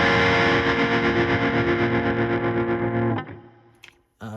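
Electric guitar through a hard tremolo pedal on a touring pedalboard, a loud distorted chord pulsing rapidly on and off for about three seconds before cutting out, followed by a brief silence and a short burst.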